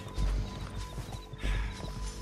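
Horse hooves clip-clopping in the video game Red Dead Redemption 2, a steady galloping rhythm of heavy thuds up close, with a brief whinny, music and game sounds underneath.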